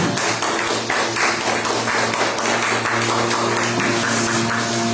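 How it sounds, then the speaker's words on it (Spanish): A church congregation at a Wednesday teaching service applauds for the Lord, steady dense clapping from many hands that fills the room and continues unbroken throughout. "Den un aplauso al Señor"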